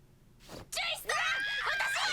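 A person screams in an anime episode, a loud harmonic cry rising after a short breathy gasp and held for over a second.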